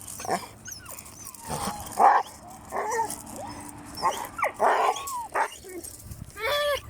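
Several dogs bark in short, scattered bursts with yips and whimpers, fairly close, spread irregularly through the stretch with brief pauses between.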